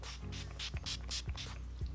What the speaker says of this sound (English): finish it off with a little bit of Urban Decay All Nighter Setting Spray.